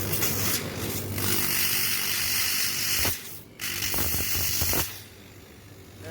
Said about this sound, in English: Now I will start the compressor and see discharge and suction pressure.